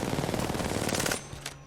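Rapid automatic gunfire from the video game Apex Legends rattles in a dense burst at targets for about a second, then stops, leaving a couple of faint clicks.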